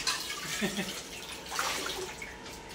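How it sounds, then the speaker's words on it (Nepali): Dishes and utensils washed by hand in running water during outdoor cooking in rural Nepal, a continuous splashing rush with clinks and sloshes, close, with faint voices in the background. "चाहिएको बर्तनहरू पनि माझ्नुपर्छ"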